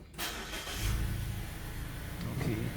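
A car engine cranks and catches during a battery voltage check, turning over briefly, then settling into a steady close idle without talk.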